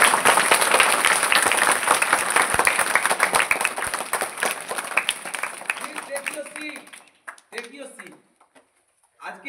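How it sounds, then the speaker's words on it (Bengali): A crowd at a school event claps loudly in a dense, sustained burst of applause that gradually thins out and fades into scattered claps and murmuring. "জোরে হাততালি"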